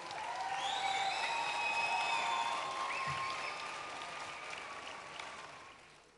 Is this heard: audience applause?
yes